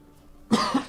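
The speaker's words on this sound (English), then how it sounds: "I've just had some kind of weird cough." A single sharp, close cough erupts after a quiet pause, followed quickly by a second smaller cough burst.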